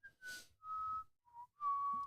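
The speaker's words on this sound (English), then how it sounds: "You're whistling in people's ears" A person whistles a short tune in four bursts, close and fairly clear, with a brief noisy breath or rustle between the first notes.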